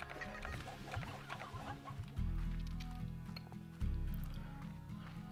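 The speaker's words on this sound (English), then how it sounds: "Couple more chickens." Chickens in the video game Slime Rancher cluck and chirp in busy overlapping bursts, joined by soft squishy thuds and a low rumbling hum that swells twice, with no talking.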